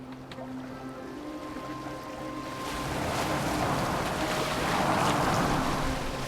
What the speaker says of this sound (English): Are you well enough to steer this boat?